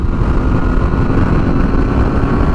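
Honda CBR 1000RR-R SP engine running under gentle throttle during break-in, a loud, steady rumbling drone with little change in pitch.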